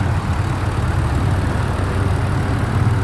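A 2003 Chrysler Town & Country LX minivan with a 3.3-litre V6 idles smoothly under the open hood, a steady, loud, close low rumble that holds even throughout with no voices.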